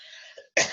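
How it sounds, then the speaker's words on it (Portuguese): A woman gives a single sharp cough up close, preceded by a short breathy throat sound, in a quiet room. "Vou tossir"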